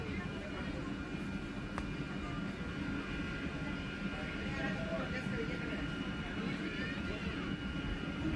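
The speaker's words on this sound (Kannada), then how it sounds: "KSR ಬೆಂಗಳೂರು ಟು ಧಾರವಾಡಕ್ಕೆ ಬಂತು ನೋಡಿ" The Siddhaganga Superfast Express from KSR Bengaluru to Dharwad, hauled by a WAP-7 locomotive, rolls past as a faint, steady low rumble, with a thin high tone and voices faintly underneath.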